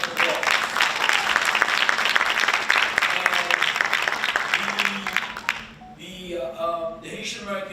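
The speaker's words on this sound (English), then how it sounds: "Give them a big round of applause." An audience at a Haitian history bee semifinal and final claps loudly and steadily for several seconds, then the applause fades out and a voice begins speaking.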